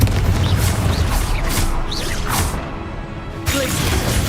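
Confringo blasting spell cast in a Hogwarts video game, a loud continuous rumbling roar with whooshing bursts and booming impacts that briefly drops out, then returns.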